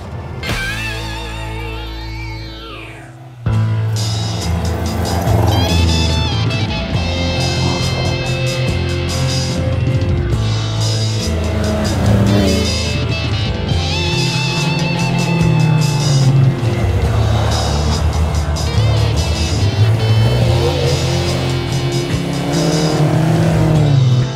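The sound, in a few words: historic rally cars racing at the Monte-Carlo Historic Rally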